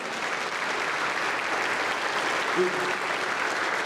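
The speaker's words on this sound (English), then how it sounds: "You're clapping for yourself." A church congregation applauds steadily throughout, a dense, even wash of clapping from many hands that holds at a constant level with no break.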